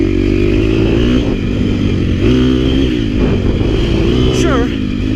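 A KTM 250 XC-F four-stroke race motorcycle engine runs loud and steady with a brief rev rise near the end, heard beneath continuous talk.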